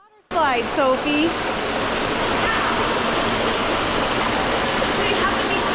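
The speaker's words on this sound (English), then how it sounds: "It's a true water slide, Sophie." Water rushes steadily down a hotel's indoor water slide, a loud continuous wash that fills the space. A few high shrieks or voices ring out at the very start before the rushing takes over.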